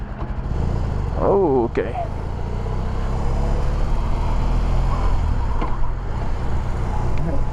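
A BMW R 18 motorcycle engine runs at low revs, its deep steady rumble continuous and close, with a rider speaking briefly over it early on.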